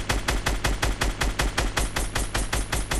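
Rapid automatic gunfire from a SCAR assault rifle in the Fortnite Battle Royale video game, loud and close, with evenly spaced shots in a steady stream lasting throughout and no voices.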